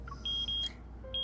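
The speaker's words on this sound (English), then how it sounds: "With a beep, the hunters watch precisely lists the time at 12 a.m." Short electronic beeps from a hunter's watch in the video game Love and Deepspace, three clear high-pitched chirps spread over a second, with a faint synth tone underneath.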